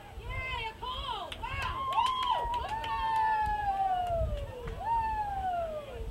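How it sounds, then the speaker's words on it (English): A high school boys' soccer crowd reacts to a referee's call with rising whistles, hoots and cheering over steady background crowd noise, while a commentator talks over it. "the crowd seems to be reacting to a much-needed call by the referees"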